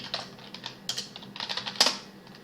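Computer keyboard typing while entering commands during a Linux system setup, a quick irregular run of close, light key clicks with brief gaps between bursts.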